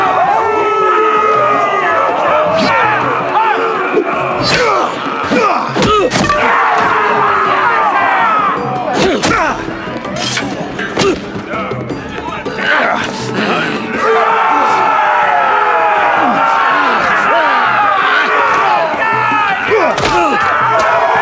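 An arena crowd roars and cheers in a Game of Thrones video game on Android and iOS, loud and sustained with shouts and thuds, while voices speak over it.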